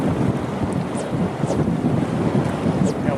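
Steady wind roars across the microphone aboard a fishing boat drifting in a ship channel, a constant broadband rush with faint splashes and creaks, no speech.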